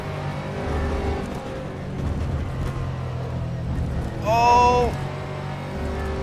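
McLaren race cars lapping Spa in a racing video game, engines droning steadily throughout with a brief rise as one passes, under a short exclaimed voice.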